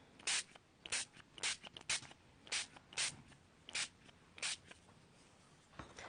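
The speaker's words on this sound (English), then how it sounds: "This is the Brutus Monroe Liquid Elements ink, or Liquid Elements spray." Brutus Monroe Liquid Elements ink spray hisses from a pump bottle in a string of about a dozen short, sharp bursts with brief pauses between them, close and fairly quiet.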